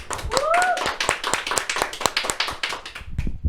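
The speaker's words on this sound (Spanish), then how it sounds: "recibimos esta nueva emisión con un fuerte aplauso" Studio audience applause on a faith talk show, a sparse and fairly close patter of handclaps that fades out after about three seconds, with a brief voice mixed in near the start.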